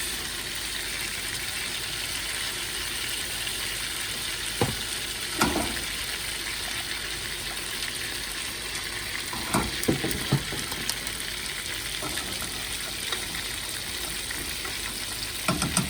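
Cajun-seasoned ribeye steaks sear in a hot pan with a steady, soft sizzle and a few brief crackles and pops, heard alone without talk.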